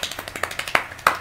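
Rapid series of light claps or taps in quick, slightly uneven rhythm, close and fairly crisp, with no talking, from the video game Slendytubbies 2.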